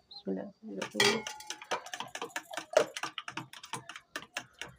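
A utensil clinks rapidly and rhythmically against a bowl while omelette ingredients are mixed for breakfast, close and moderately loud, with a voice speaking briefly at the start.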